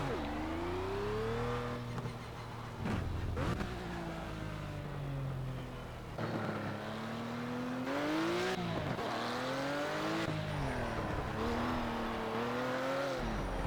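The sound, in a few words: Ruf RT 12 R car doing burnouts, video game Project CARS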